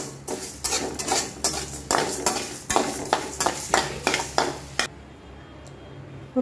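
Toor dal and spices dry-roasted without oil in a pan, a metal spoon scraping and clinking against the pan in repeated strokes, close and distinct, with a soft sizzle before stirring stops and a quieter stretch follows.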